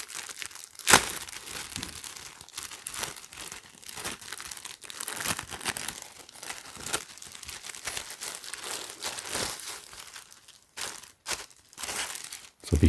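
Crinkly plastic packaging around a Supreme x The North Face white tee rustles and crackles nearby as it is handled and opened, with a sharp tear near the start and continuous crumpling throughout.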